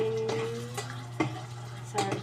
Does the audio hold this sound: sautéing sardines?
yes